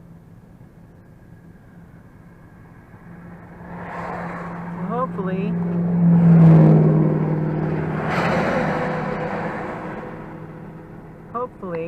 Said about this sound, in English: looks like they're starting to let cars from the other side through